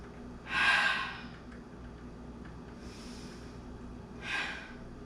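Deep breaths during a yoga hip-flow session: one long, close exhale, a quieter second breath, then another audible exhale, slow and unhurried over a soft room hum.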